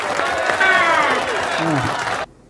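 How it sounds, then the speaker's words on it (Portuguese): Brief burst of applause and crowd noise mixed with overlapping voices and laughter in a casual home setting, steady for about two seconds before cutting off abruptly. "Esse cara merece uma salva de palmas!"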